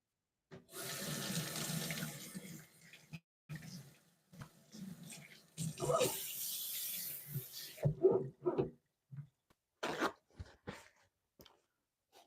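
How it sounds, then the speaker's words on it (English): Hands being washed under a running kitchen tap during bread making, water splashing steadily in bursts with pauses between, close and moderately loud, with no talking. "bear with me while I actually just wash my hands real quick"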